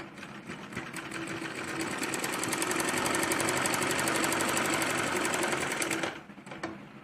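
An electric sewing machine runs a steady, rapid topstitch along a small girl's salwar seam for about six seconds, then stops, followed by a few faint clicks.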